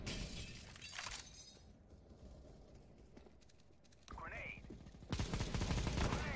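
A flashbang grenade going off in Counter-Strike: Global Offensive: a sharp burst near the start, a quieter stretch with a brief ringing swoop, then a loud, harsh blast of noise that fills the end.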